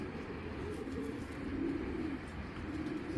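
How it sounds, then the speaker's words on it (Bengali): Giribaz pigeons give soft, low, rolling coos that repeat throughout, fairly close but quiet, with no talk over them. "দেখেন কবুতরের মুভমেন্টটা কি, সবুজগুলো দুইটা কবুতর দেখাইতেছি।"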